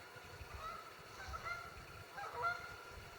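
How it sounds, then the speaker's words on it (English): Geese honk faintly in the distance at Lake Vesuvius, Wayne National Forest, Ohio, around 8 pm, a few scattered calls over quiet background. "I can hear the geese. Hopefully they don't keep that racket up all night."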